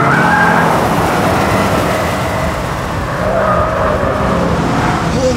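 A BMW M3 Competition driven hard around track corners, its engine roaring loud and steady with tire noise and a pitch that dips and rises through the bends, heard continuously and close.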